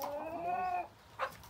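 Chickens and a rooster scuffle and squabble over grain in a farmyard pen, a brief loud squawking call followed by a pause and a short sharp cluck, close and alone.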